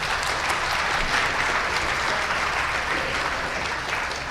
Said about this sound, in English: let's give them a round of applause and thank them for coming today